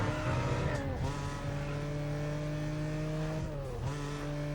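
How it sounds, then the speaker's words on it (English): A Porsche 911 Carrera S engine racing laps around Century Square in Need for Speed: Most Wanted, loud and steady with a sustained high revving drone, pitch dipping briefly on gear shifts and rising again. "So we've got ourselves a Porsche 911 Carrera S."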